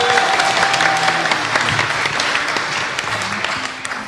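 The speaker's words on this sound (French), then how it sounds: "On peut applaudir Ryan Carey pour ses propositions." A live audience at a podcast event in Rennes applauds a contestant in a mock election, steady dense clapping filling the room at close range for the whole stretch, with a faint voice briefly audible early on.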